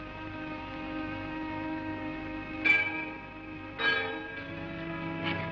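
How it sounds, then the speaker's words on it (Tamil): A night-watch bell in an old Tamil period film is struck twice to mark the second watch of the night, each clear ring decaying slowly over a steady musical background. "2ஆம் தாமம் மணி அடித்து விட்டது."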